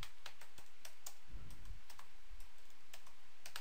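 Fingers type steadily on a computer keyboard, a quiet, close, continuous stream of light key clicks with a couple of heavier thumps, like the space bar, and no talking.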